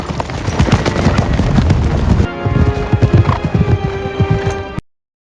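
Horses trot in a rapid, loud run of hoofbeats in a Lord of the Rings film scene, hooves clattering close and continuous before cutting abruptly to silence.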